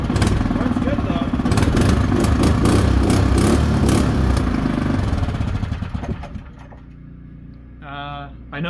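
A small engine, formerly a smoker, runs after restarting with a loud rough clattering drone that fades down toward the end as someone speaks over it.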